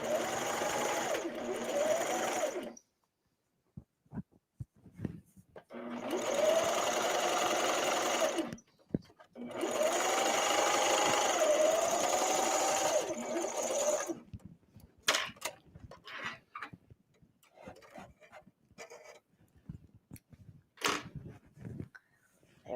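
A serger sewing machine stitches binding along the edge of a tank top, running in three sustained loud bursts of steady whirring separated by pauses, followed by scattered light clicks and handling noises.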